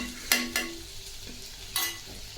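Green beans with green chilli get stirred into oil in a pan over low heat, a faint background sizzle with two or three sharp scraping stirs of a spoon.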